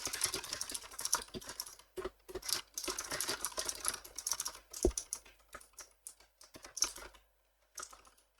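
Fingers type on a computer keyboard nearby, rapid irregular clicking bursts with short pauses, quiet and alone with no voices.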